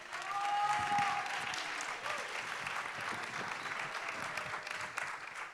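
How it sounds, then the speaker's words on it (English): Sustained audience applause for a journalism panel that includes a Syrian radio CEO, a dense crowd clapping loudly and steadily from start to finish, swelling slightly early on before settling into an even roar. "Let's give a round of applause for these folks."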